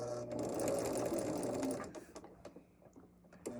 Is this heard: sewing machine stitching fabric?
yes